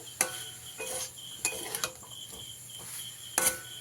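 A spoon scrapes and clinks against a pan in scattered strokes while ol (elephant foot yam) curry is mixed, with a faint steady background hum and no talk.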